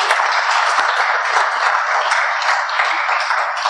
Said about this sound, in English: A round of applause for the High Commissioner